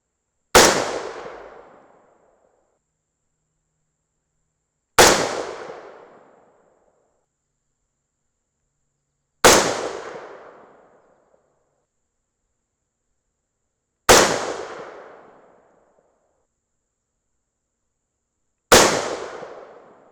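Rifle shots fired with a bare barrel at a target, five single loud cracks spaced about five seconds apart, each with a brief fading echo and silence between.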